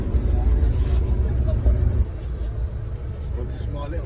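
Overnight sleeper bus travelling from Thailand toward Cambodia, a heavy low engine drone and road rumble heard from inside the cabin, with rattles and some background voices.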